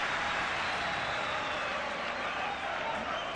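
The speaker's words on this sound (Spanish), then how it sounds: "Los aplausos que bajan de la fanaticada hispana." Unión Española supporters applaud in the stands of a football stadium during a championship final, a steady, distant wash of clapping and crowd noise throughout.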